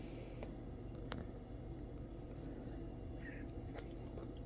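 Quiet, close-up chewing of an ice cream mochi snack, with soft, squishy bites over a steady background hum.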